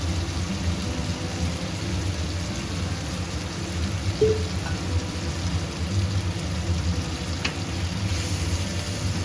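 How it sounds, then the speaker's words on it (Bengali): Masala fries in oil in a pan for a vegetarian aloo dum, giving a soft, steady hiss and sizzle throughout with an occasional faint clink, no voices over it. "আর একটু ভাজা ভাজা করব"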